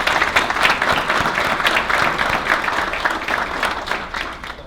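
An audience at a family business of the year awards event breaks into loud, sustained applause that holds steady for several seconds and begins to taper off at the end.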